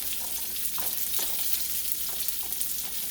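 Onions frying in a pan for a single-serving curry shrimp stir-fry, a steady broadband sizzle with a few soft stirring clicks, close and moderately loud, no voices.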